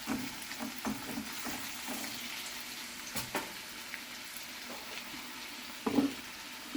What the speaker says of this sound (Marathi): प्रॉन्स थोडे आपण तळसावून घेतोय